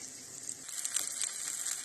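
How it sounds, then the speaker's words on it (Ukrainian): Steady high-pitched sizzle of chicken thighs frying in a hot pan, with faint crackles and pops throughout; no voices. "виклали на сковороду, підсмажимо з обох боків"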